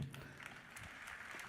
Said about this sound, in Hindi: मैं चाहता हूँ जोरदार तालियों के साथ उनका स्वागत कीजिए,